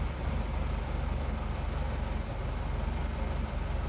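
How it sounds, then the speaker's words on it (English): Car creeping forward slowly in first gear with the handbrake released, a steady low engine rumble with an even pulsing drone throughout, close and moderately loud, no voices. "So, handbrake off, first gear, let off the brake."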